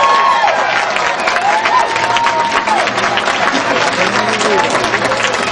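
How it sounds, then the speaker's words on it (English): Crowd applause with some cheering at the grand opening of a restored carousel at a Long Island museum, a steady, dense wash of many hands clapping close by that holds evenly throughout with faint voices mixed in. "Let's start by giving her a round of applause, Rachel Oberg."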